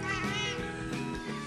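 A human voice imitates a cat's meow, giving a few drawn-out, tonal mews close up at a steady level in a quiet room.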